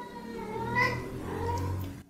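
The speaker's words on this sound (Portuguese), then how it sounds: "Um gato aí assombrado." A cat meows in a TV series trailer: one drawn-out, wavering cry with a second rising call, close and clear over a low background, with no talking.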